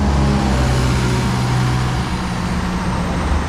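A noisy 2007 Optare Solo bus pulling away in Hertford, its diesel engine a loud, steady low rumble with a whining hum, close by and continuous throughout.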